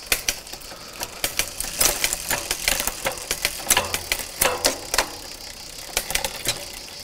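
A Shimano Claris rear derailleur on a bicycle shifts down through the gears, giving a run of sharp, close mechanical clicks in an uneven rhythm over a steady whirring background.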